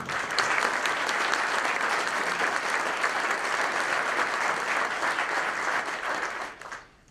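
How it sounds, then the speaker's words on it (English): A press-conference audience for the World Meeting of Families applauds, a steady, full wash of many hands clapping for several seconds before it tapers off quickly at the end. "So please let them know by your applause that we're grateful for their presence."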